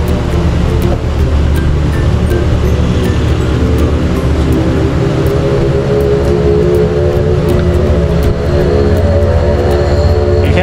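Motor tricycle engine labouring uphill on a mountain road, a loud, continuous low rumble close by with no pauses, some wind or road noise over it.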